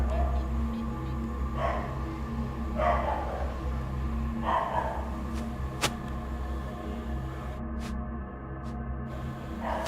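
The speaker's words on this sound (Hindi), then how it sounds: "एक शदीद आवाज़ है, गुस्से वाली आवाज़ है, जैसे वो किसी चीज़ को देख के भौंक रहा हो।" A dog barks angrily in the background, several muffled barks spaced a second or so apart under a steady low hum, with people talking over it.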